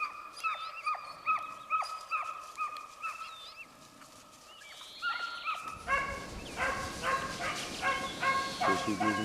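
Hunting dogs bay while tracking a wild boar, with repeated sharp barks at moderate distance that break off briefly, then return as a busier overlapping chorus.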